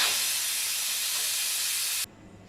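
Loud, continuous hiss of steam rushing from a pressure cooker after the weight is lifted, following mutton cooking, then abruptly cutting off near the end.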